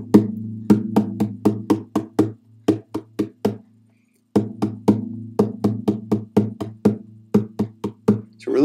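Rhythmic tapping beats out a guitar or ukulele strumming pattern, a steady run of sharp close knocks with uneven accents, pausing briefly partway before resuming.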